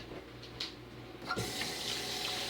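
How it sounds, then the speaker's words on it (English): Water running steadily from a tap while hands are washed under it during soap making, a constant splashing hiss with a brief shift as the hands move into the stream. "Wash the hands."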